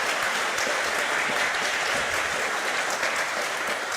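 An audience at a live talk breaks into a steady, dense burst of clapping that fills the space evenly from start to finish.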